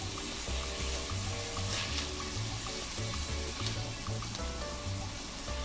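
Onions fry steadily in a pan as the base for a tortilla soup, giving a continuous moderate sizzle with a low pulsing undertone and no talking.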